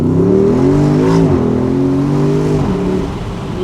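A 2020 Porsche Cayenne Coupe Turbo SUV engine idles high and revs steadily, spooling its turbos, its pitch rising and dipping a couple of times, loud and continuous.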